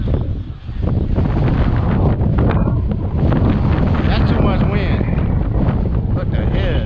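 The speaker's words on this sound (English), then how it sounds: "That wind blowing me over here." Strong wind roars outdoors across the microphone in a constant loud, close buffeting, with a voice speaking partly under it during an RC car showdown.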